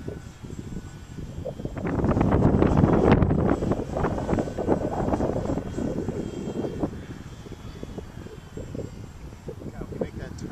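T-28 airplane engine droning in high winds, a propeller roar that swells loud and near for a few seconds and then eases to a steadier hum, with wind buffeting the microphone.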